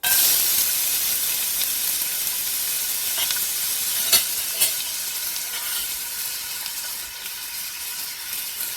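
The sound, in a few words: chopped onion frying in extra virgin olive oil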